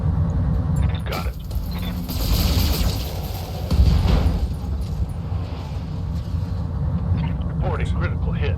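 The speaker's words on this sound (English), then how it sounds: "Not quite a kill, but we did get ammo explosion, which is nice." Weapons fire and an ammo explosion in the BattleTech video game, a dense rumbling barrage of booms and blasts with a heavier burst near the middle, under a steady game soundscape while someone talks over it.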